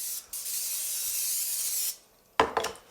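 Aerosol grease spray hisses onto a pizza pan in one steady burst of about two seconds, followed by a short clatter of handling.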